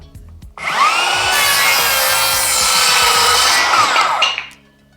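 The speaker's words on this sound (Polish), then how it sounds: "Nic nie stoi na przeszkodzie, żeby uciąć tą deskę pod kątem 45 stopni." A handsaw rasps steadily through a wooden board at a 45-degree angle, one continuous loud cut of about four seconds with no talk, then stops.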